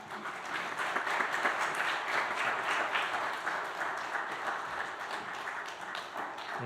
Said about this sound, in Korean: 우리 나오실 때 크게 박수로 환영하겠습니다.